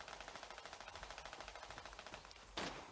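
Rapid automatic gunfire in the mobile shooter game Arena Breakout, a steady fast rattle of shots that sounds faint and distant, ending in one louder burst.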